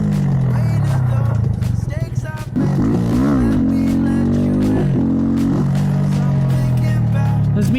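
A Honda Grom motorcycle is forced up into second gear, its small engine droning loud and close, dipping briefly at the shift, then pulling and revving again with rising and falling pitch.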